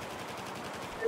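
Faint, distant rapid gunfire from Battlefield 4 rattles on as a steady low wash of battle noise, with no single shot standing out.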